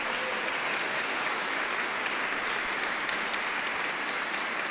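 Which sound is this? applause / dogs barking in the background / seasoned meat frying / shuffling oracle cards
applause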